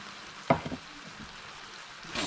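Plain flour being stirred into a sizzling frying pan for Salisbury steak, a single sharp scrape of the spoon over a low steady sizzle, short and close.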